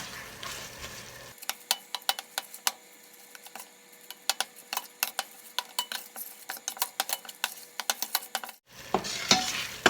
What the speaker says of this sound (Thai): แล้วก็ผัดพริกแกงนะคะเพื่อน